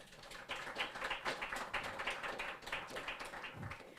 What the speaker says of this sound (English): so big round of applause for my husband